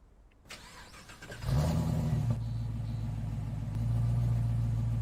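A 6.2-liter V8 starts in a modded Range Rover Bobtail in SnowRunner: a short crank, then the engine catches loudly and settles into a steady, deep idle rumble with a slight rise near the end.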